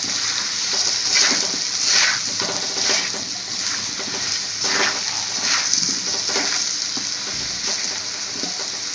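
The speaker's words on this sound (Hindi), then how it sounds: "दो मिनट हो गए आलू को मसालों में भूनते हुए" Potato pieces fry in dry spices in a pan for spring onion sabzi, a loud continuous sizzle with recurring stirring scrapes and soft crackles throughout, no one speaking.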